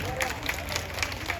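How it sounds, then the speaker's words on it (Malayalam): An audience gives moderate clapping after a kaikottikali group dance performance at a community event. The applause is loose and uneven and sits under speech and crowd murmur. "കൈകൊട്ടി കളി അവതരിപ്പിച്ച അവർക്ക് നല്ലൊരു കൈയടി"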